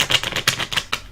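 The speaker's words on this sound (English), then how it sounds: "I love this deck, the Spiral Tarot, and it's the cards are so thick and durable, but they're really hard to shuffle" Thick, durable Spiral Tarot cards being shuffled by hand, giving a series of crisp, clattering riffles in quick uneven bursts, close and fairly loud with no talking.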